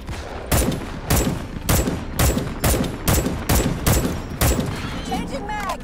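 Loud gunfire in Starship Troopers: Extermination, a rapid run of about ten heavy shots at an even rhythm, close and dominant, with a brief voice near the end.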